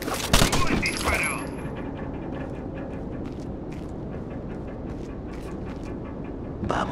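Video-game gunfire in Tom Clancy's Rainbow Six Vegas 2: a sharp burst at the start, then scattered softer shots and distant pops over a low rumbling background, ending with another short burst.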